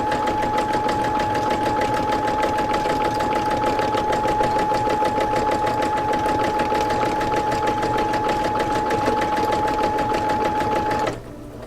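A sewing machine stitching free motion embroidery runs continuously and close up with a fast, even mechanical chatter and a steady whine, stopping abruptly near the end.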